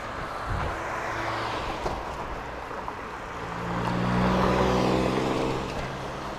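Steady road traffic roars along Steeles, a busy multi-lane road, with a constant engine and tyre wash that swells louder as heavier vehicles pass close by near the end.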